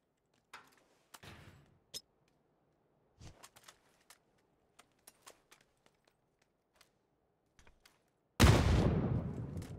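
A thrown grenade in PUBG bursts suddenly into a loud, close explosion with a roaring tail, after several faint clicks and scattered footstep-like taps in near silence.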